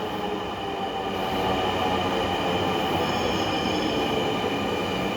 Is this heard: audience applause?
no